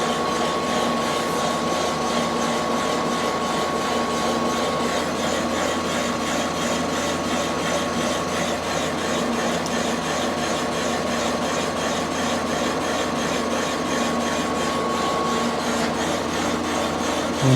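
Boring machine cutting a Yamaha 250 Enduro motorcycle cylinder, a continuous even grinding scrape with a faint steady whine, unbroken and moderately close, with no one talking.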